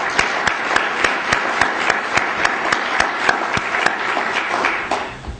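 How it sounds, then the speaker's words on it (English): A room of symposium attendees claps in a moderate round of applause, individual sharp claps standing out in a fairly regular pattern over a steady bed of hand noise before it fades at the end. "Let's give them a round of applause as well."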